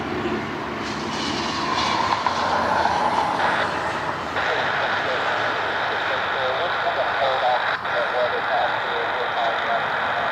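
A Gulfstream business jet passes an airport spotting spot at Cleveland Hopkins, a steady broadband jet roar holding loud and close for several seconds, with a person talking over it.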